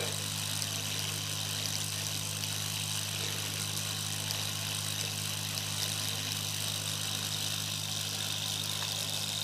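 A Nano Flux twin acoustic hot air engine runs steadily, giving a continuous low hum with a fine high whine, faint and even throughout with no talk.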